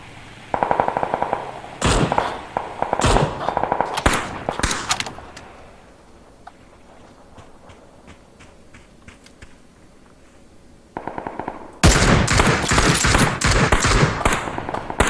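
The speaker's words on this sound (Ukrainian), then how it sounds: "Стріляв хтось тут." Bursts of rapid automatic gunfire in a snow-map battle royale video game, loud and clattering, with a quieter stretch of scattered faint shots and clicks before a final sustained volley.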